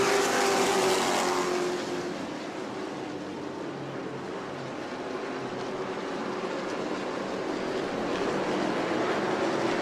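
Sportsman race cars circling the New Smyrna track, a loud dense engine roar that swells, eases off briefly, then builds again without pause.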